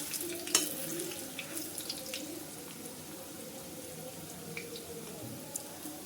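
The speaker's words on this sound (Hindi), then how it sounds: "मीडियम फ्लेम पे फ्राई करना है।" Jackfruit koftas frying in oil over a medium flame give a steady, close sizzling hiss with scattered small pops and crackles throughout.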